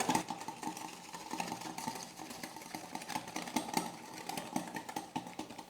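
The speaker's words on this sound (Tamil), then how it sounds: "முட்டையோடு சேர்த்து நல்லா பீட் பண்ணிக்கலாம்." Electric mixer beating eggs and sugar for cake batter, a continuous fluttering motor whir with uneven rattling pulses, fairly faint, no talk.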